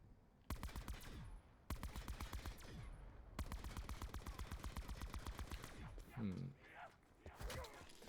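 Rapid automatic gunfire from Black Ops 4 Zombies on the Blood of the Dead map, loud close bursts of fast shots separated by brief pauses, followed by scattered impacts and game effects.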